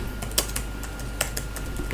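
Typing on a computer keyboard in Microsoft Word, a close run of quick light key clicks with a few sharper taps in an uneven rhythm over a low steady hum.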